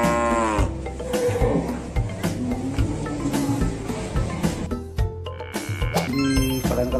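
A toy cow gives a loud, drawn-out moo, followed by more mechanical lowing and clattery noise from the small plastic toy, close and continuous for several seconds.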